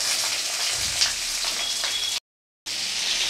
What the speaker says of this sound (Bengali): পটলগুলোকে ভালো করে লাল করে ভেজে নেব